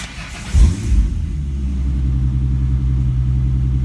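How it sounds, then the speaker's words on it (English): Ford Mustang 2005-2009 engine with a WOTBOX installed, starting with a brief loud burst then settling into a steady, close, deep idle rumble with no talk. "Alright, car seems to be running pretty okay."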